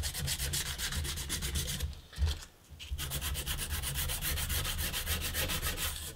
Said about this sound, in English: And I will grind this away anyway. This will form the bevel